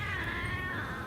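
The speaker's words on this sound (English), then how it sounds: "It's a kitten." A kitten meows once in a drawn-out, slightly strained cry, close and clear, with no talking over it.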